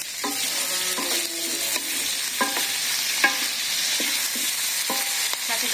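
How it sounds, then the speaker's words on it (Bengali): Small potatoes and eggplant fry in a pan for a vegetarian curry, with a steady sizzle and regular scraping clinks of a spoon stirring at close range. "ভালো করে ভেজে নেই"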